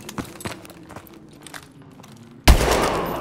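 In the video game Call of Duty: Advanced Warfare, light footstep-like taps lead into a single sudden loud blast of gunfire near the end, its roar filling the close of the clip.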